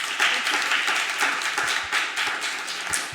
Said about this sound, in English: Let's get a round of applause for